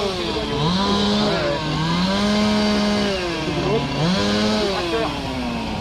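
A tractor engine passes close by on a road during a long Bordeaux–Paris group bike ride, a steady loud droning motor with wavering pitch that swells and eases across the clip as voices talk nearby.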